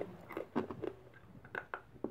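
Someone chews and bites on hard American candy, producing close, irregular crunching and biting sounds in short bursts.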